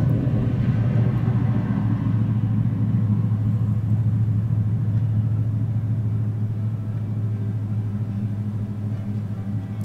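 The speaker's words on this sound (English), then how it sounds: "that's a loud ass truck" Loud truck passing outside: a steady, heavy low rumble fills the whole stretch, strongest at the start and easing slightly as it moves off, with no talk over it.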